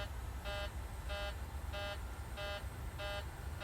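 Repeated electronic beeping from a PMDG 737-700 airliner cockpit in Microsoft Flight Simulator 2020: six evenly spaced tonal beeps about every 0.65 seconds, clear and steady over a constant low engine and airflow hum.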